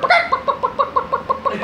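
A man mimics a rooster with his voice, giving a rapid run of short, clucking vocal bursts at close range, evenly spaced and loud, with no other sound.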